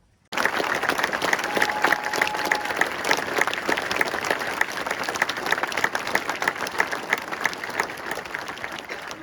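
A large outdoor crowd of several hundred people at a flag-lowering ceremony for soldiers at Mount Rushmore breaks into steady applause, with dense, sustained clapping that starts abruptly and continues without a break.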